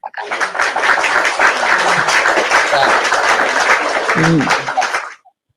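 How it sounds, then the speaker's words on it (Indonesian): A church congregation applauding for God, a dense sustained wash of clapping lasting about five seconds before stopping abruptly, with a voice briefly audible over it. "Tepuk tangan buat Tuhan"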